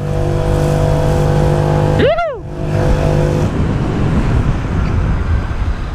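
A Honda PCX scooter running with no air filter and a washer in the exhaust drones loudly nearby, then a car-like tone sweeps sharply past before the noisy engine and wind rumble carry on.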